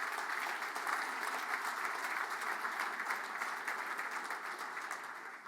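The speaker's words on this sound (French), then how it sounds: "On vous applaudit." Audience at a francophone banquet in Prescott and Russell claps in sustained, even applause, a dense wash of many hands from a full hall, fading slightly toward the end.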